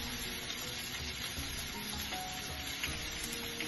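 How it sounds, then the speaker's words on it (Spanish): Rice goes into a pot of water nearing the boil while cooking Kung Pao chicken, giving a soft, steady sizzle that stays faint and even throughout, with no one talking. "Vamos a agregar ya nuestro arroz."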